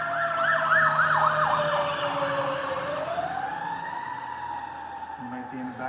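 An ambulance siren wails loud and close, its pitch sweeping up and down in a rapid yelp before settling into a long, slow falling tone as the vehicle goes by, with steady road noise underneath.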